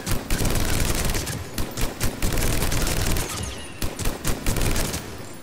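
Rapid automatic gunfire from a 100-round weapon in the video game Mass Effect 3, a dense, loud fusillade of bursts with brief dips that continues through the whole stretch, with no voices over it.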